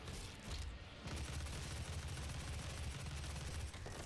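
Rapid plasma gun fire in the video game Doom, a dense sustained burst of energy shots with low rumbling impacts, loud and continuous with no talk over it.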